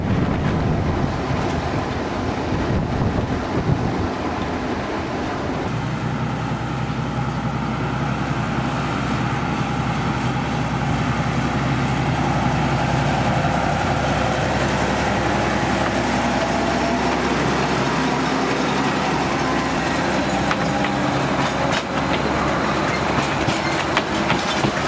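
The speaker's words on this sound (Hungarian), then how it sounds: "Az induló vonat élén a 2012-es MK48-assal Dombrádra ment." A narrow-gauge train led by a 2012 MK48 diesel locomotive departs on the Nyírvidék light railway, with a steady engine rumble, rhythmic wheel clatter and wind buffeting the microphone, loud and continuous throughout.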